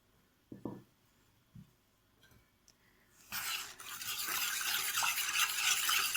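A spoon clinks a few times in a bowl, then stirs a dry mixture of starch, flour and sugar with a steady, soft scraping hiss that grows louder and continues to the end.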